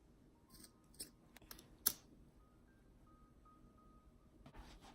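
Scissors snip a strand of yarn during yarn loc maintenance, a few faint, sharp clicks scattered across a quiet background.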